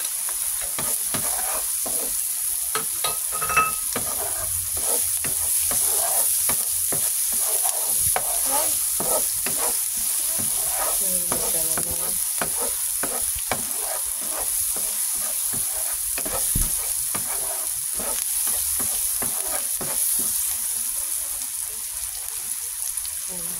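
Garlic and onion sautéing in a pan while being stirred, a steady close sizzle with scraping strokes of a utensil running continuously throughout.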